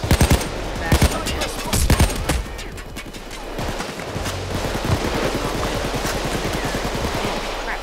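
Gunfire rattles through a Payday 2 heist, starting with loud separate shots and then settling into rapid, continuous automatic bursts, with players' voices heard faintly at times.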